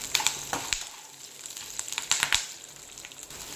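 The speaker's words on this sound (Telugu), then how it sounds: "సో ఈ పచ్చిమిరపకాయలు కూడా కొంచెం బాగా వేగాలి." Green chillies fry in oil in a kadai, a quiet sizzle broken by sharp, irregular crackles and pops, with no talking.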